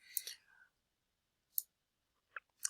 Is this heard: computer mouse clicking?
yes